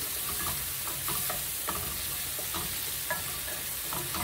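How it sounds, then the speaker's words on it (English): Shrimp sautéing in a pan with no added liquid, a steady sizzle and hiss of frying with repeated stirring scrapes ticking along at a regular pace throughout. "And we'll saute this till it turns opaque."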